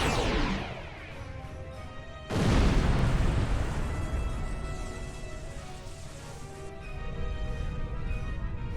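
In Star Trek Online, a nanite torpedo launches with a sharp whoosh, then a heavy booming explosion bursts in, its rumbling tail sustained under layered game effects.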